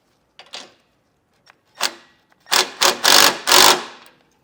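Metal hardware clicks and rattles as a bolt and nut are fastened to a breakaway switch on a flat-tow brake system, with a few scattered taps and then a louder close burst of ratcheting clatter.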